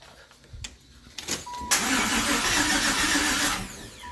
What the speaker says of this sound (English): She cranks, so it was exactly what I thought it was.